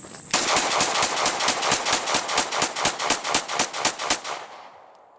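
A Glock 17 pistol loaded with a Pmag magazine during a torture test fires a fast, evenly spaced string of about twenty loud, sharp shots over four seconds, then the echo fades.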